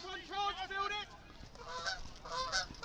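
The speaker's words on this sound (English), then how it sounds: "There's two geese fly over my head there. Canadian geese here down at Sandy Lodge Lane." Two Canada geese honk repeatedly as they fly overhead near Sandy Lodge Lane during an outdoor hockey match. The calls come in close, loud bursts, first a rapid series and then a few more after a short pause.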